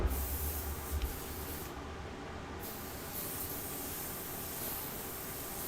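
An airbrush sprays water through to clean it out between paint colours, giving a steady close hiss that runs through the whole stretch, with a brief low rumble at the start and no talking.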